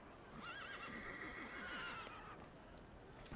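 A horse in the video game The Thaumaturge gives a clear, wavering whinny that rises and falls over a few seconds against a soft background hum.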